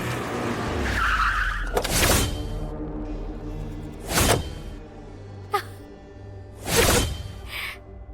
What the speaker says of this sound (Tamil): அண்ணனோட கார் சத்தம் கேக்குது